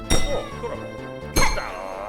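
Bell rung in the video game Silksong: two bright metallic clangs about a second apart, each ringing out briefly over a low background hum.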